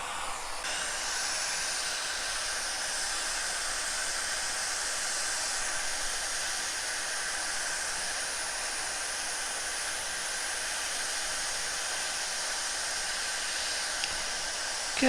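Hot air blows steadily onto the rear HDMI port of a PS4 Slim CUH-2xxx console, a constant close hiss running unbroken from start to finish with no talking.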